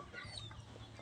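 Hens clucking softly in a farmyard, a steady low murmur of several birds with occasional higher calls, no talking.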